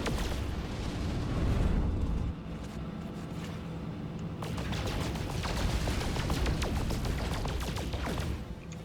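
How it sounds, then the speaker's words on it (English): Phase beam weapon firing in No Man's Sky, a continuous crackling, roaring energy stream that holds loud and steady for several seconds with no voices. "Boom, the phase beam."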